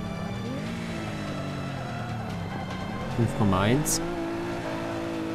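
A Mercedes race car in Forza Motorsport 5 holds a loud, steady engine drone close up, its pitch dipping and climbing through gear shifts, with a tire squeal near the end while someone talks over it.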